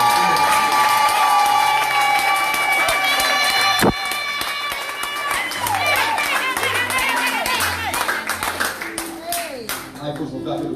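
A church congregation cheers and acclaims Jesus Christ with clapping, shouts and raised voices that swell and then taper off into scattered calls.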